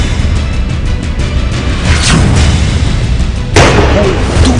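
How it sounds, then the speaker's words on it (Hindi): Explosions during a dawn encounter with militants in Budgam, Kashmir, two sharp booming bursts, the second louder and longer, rising out of a steady roaring din. "दूसरा धमाका"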